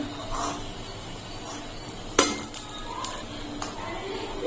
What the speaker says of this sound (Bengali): দেখুন ডোনাটগুলো ফুলে ডবল হয়ে গেছে, এখন আমি তুলে নিচ্ছি, হয়ে গেছে ভাজা।